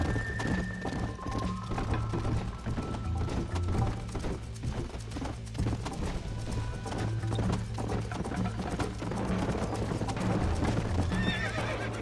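Galloping horse in Red Dead Redemption, hooves clip-clopping in a steady rapid rhythm with repeated whinnies and neighs over it, loud and close throughout with a low game background hum.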